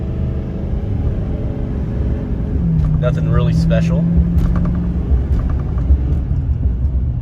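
Steady low diesel drone of a Duramax L5P truck engine heard from inside the cab, a constant rumble throughout with a brief rising tone in the middle, while a person talks over it.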